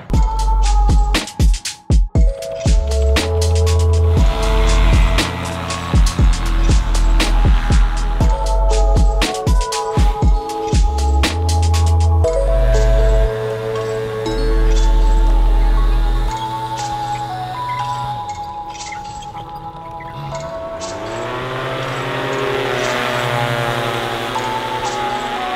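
Motors of a high-end drone on a windy day, a steady whining drone of tones that swell and shift in pitch as it hovers and adjusts nearby, loud and without talk.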